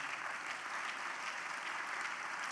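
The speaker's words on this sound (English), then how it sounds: "Let's give Matt a round of applause for his leadership." An audience gives a warm round of applause at a speaking event, a dense, even roar of clapping filling the short stretch without letting up.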